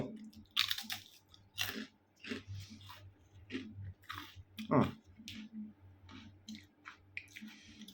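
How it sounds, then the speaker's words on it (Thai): Crispy baked DOZO Japanese rice crackers, sweet chili flavoured, being chewed close to the mic, with repeated sharp crunches and bites in an uneven rhythm and a few quiet vocal sounds. "กรอบมากอ่ะ ชอบความกรอบของ ข้าวเขามากเลยนะครับ"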